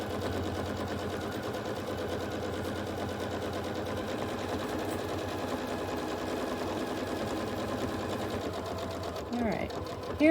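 A sewing machine quilts stitch in the ditch on a small quilt, a continuous close rattling whir that holds steady for several seconds before a short clatter at the end.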